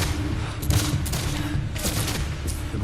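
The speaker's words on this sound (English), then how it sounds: "One fence they're using for cover takes 836 rifle shots." A Civil War rifle volley at the Battle of Gettysburg crackles as dense, overlapping gunfire, a continuous rumbling fusillade with sharper bursts standing out.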